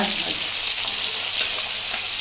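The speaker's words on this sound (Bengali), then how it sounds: "আর এদিকে ইলিশ মাছ ভাজা" Hilsa fish frying in a pan makes a brief, dense, close sizzle that holds at an even level throughout.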